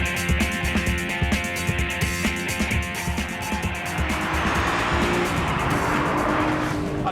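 A Renault Clio V6 lapping the Circuit d'Albi racetrack, its engine revving hard through gear changes with tyre noise, loud and continuous with no talk.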